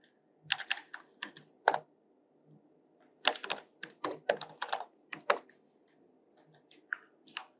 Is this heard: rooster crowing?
no